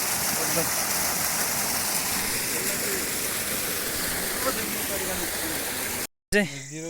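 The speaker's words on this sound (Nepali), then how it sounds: "सानो खोला होइन सानो झर्ना जस्तो टाइपको रहेछ" A small waterfall stream on a Himalayan trek rushes in a constant broadband roar, close and loud, until it cuts off abruptly near the end and a brief burst of speech follows.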